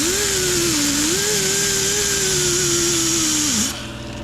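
An old Holley carburetor being sanded and polished with a power tool, a loud, steady high motor whine whose pitch wavers slightly as the tool loads and eases, then spins down near the end.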